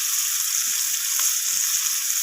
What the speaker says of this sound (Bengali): তো পেঁয়াজটা দেওয়ার পর আমি আবারও নাড়াচাড়া করে নিচ্ছি পেঁয়াজটা